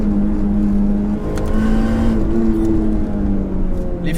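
Supercharged Mini Cooper GP R53 engine on track, a loud steady drone with a rising pitch as the car accelerates and a brief dip during a shift, close and continuous with no talk.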